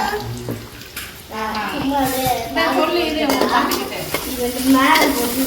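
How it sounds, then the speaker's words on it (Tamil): Sliced onions sizzle in oil in a kadai while a utensil stirs them, scraping and crackling at close range under a voice. "எண்ணெய் ஊற்றிட்டு எதுவுமே போடல வெங்காயம் தான் போட்டுருக்கேன்"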